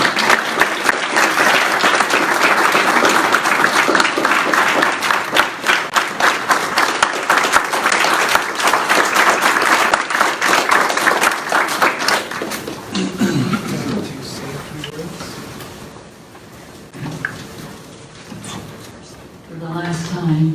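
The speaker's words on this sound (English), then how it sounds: "Now let's clap." Board of education meeting audience claps loudly for about twelve seconds, then the applause thins out into room noise and a voice begins speaking.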